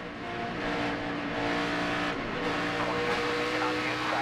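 A NASCAR Nextel Cup race car at Las Vegas roars steadily from inside the cockpit, its engine drone loud and constant with faint radio chatter underneath.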